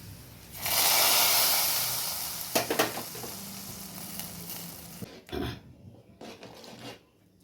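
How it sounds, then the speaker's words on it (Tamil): Sago sizzling as it fries in ghee, a loud hiss that swells at the start and fades, followed by scraping stirring sounds and a few clinks. "நெய் ஊற்றி பூரா வறுத்து அதில் கொதிக்கலாம்"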